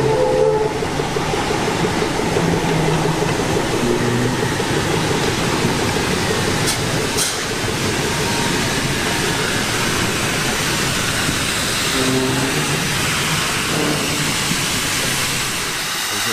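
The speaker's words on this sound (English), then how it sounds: "I can hear the train, Zach." A steam train at the Historic Dockyard Chatham rumbles and hisses steadily at close range, a loud continuous roar with faint tonal whistles, no talking.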